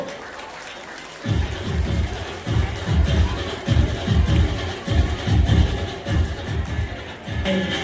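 Audience at an award ceremony for a colony cleanliness and Gauri-Ganpati decoration contest claps steadily for several seconds after a quieter opening, a full crowd applauding indoors.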